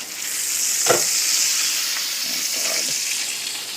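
Cabbage goes into a hot pan for a Sunday dinner and sizzles steadily, with a close, crackling hiss and a few stirring scrapes and knocks.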